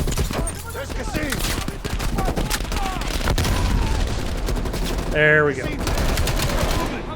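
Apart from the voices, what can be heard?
gunfire in video game Call of Duty Black Ops Cold War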